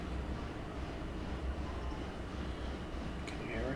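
A freight train rumbles past in the Railroader video game, a steady loud low roar of wagons throughout, with a brief high metallic squeal near the end.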